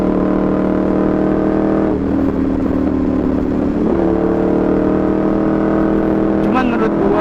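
A Ducati Evo 848 motorcycle revving loudly close by, its engine droning steadily with short rises in pitch as the throttle is blipped, while a rider talks over it.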